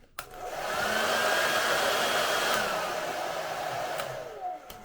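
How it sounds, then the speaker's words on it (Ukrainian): A Philips 2300 W hair dryer blows as a steady, loud whooshing roar after a click at the start, holding level for several seconds before easing slightly at the end, with no voices. "це отакий фен Philips. Він йде максимальної потужності на 2300 Вт."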